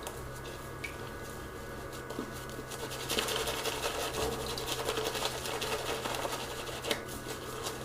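Shaving brush whipping a soft, creamy lather from a mint shaving soap stick (Le Savon des Volcans), a close, steady wet swishing and squelching that thickens and grows louder midway, with no talking.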